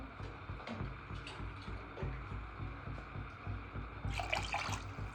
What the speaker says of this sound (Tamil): ரெண்டு கப்பு மட்டும் தண்ணி ஊற்றிக்கிறேன்